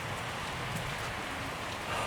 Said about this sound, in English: Unfortunately, it is raining.